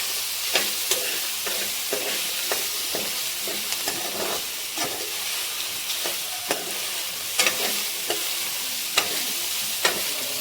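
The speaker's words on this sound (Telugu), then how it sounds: "ఇందాక ఉడకపెట్టుకున్న పాస్తా మిల్ మేకర్ వేసుకుని బాగా ఫ్రై చేద్దాం" Boiled pasta and meal maker soya chunks fry in a pan with a steady high sizzle, broken by frequent scraping stirs and clinks of a utensil against the pan, close and without talk.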